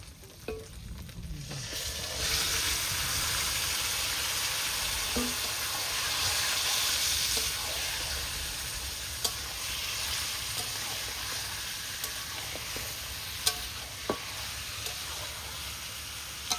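Chicken pieces fry in a pan with cooked-down spice paste, a loud continuous sizzle close up with occasional clinks and scrapes of stirring.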